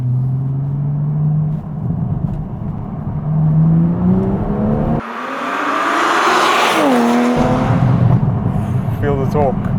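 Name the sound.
tuned Toyota Supra MK5 B58 engine accelerating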